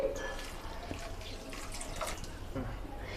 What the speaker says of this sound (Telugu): దాంట్లో సగం గ్లాస్ నీళ్ళు పోసుకుంటున్నాను బెల్లానికి